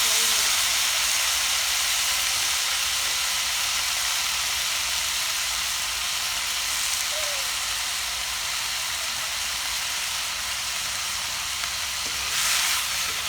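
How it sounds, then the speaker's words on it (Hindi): Tomatoes and chopped chillies fry in hot oil for a Chhattisgarhi saag, giving a steady, close sizzle that holds at the same level throughout with no pauses. "बढ़िया से भून लेंगे टमाटर को मिर्चा में"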